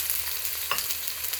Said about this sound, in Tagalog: Igisa natin siya.